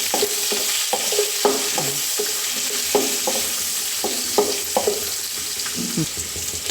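Curry leaves sizzle in hot oil in a pan for a soya chunk bhaji, a steady bright hiss broken by repeated close scraping stirs of a spoon.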